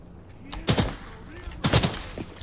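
Gunfire in the shooter game Arena Breakout, fired in two short bursts about a second apart, moderately loud, with faint voices and game sounds around them.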